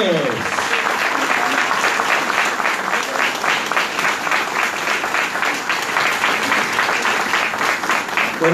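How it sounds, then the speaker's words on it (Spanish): An audience at a political campaign launch for council candidates in Villa Gesell applauds to welcome a speaker, with steady, dense clapping that holds evenly from start to finish, along with faint crowd murmur. "le damos la bienvenida con un cálido aplauso a Esteban Rodríguez."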